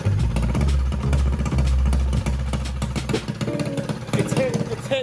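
A newly fired engine runs late at night in a garage, producing a loud, close, clattering idle with steady low rumble and uneven pulses throughout.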